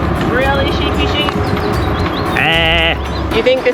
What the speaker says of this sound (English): Really, sheepy sheep?